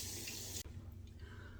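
A tap runs into a sink during a rinse after a shave with a Ronson razor, a faint, steady hiss of flowing water that cuts off abruptly partway through, leaving quiet room tone.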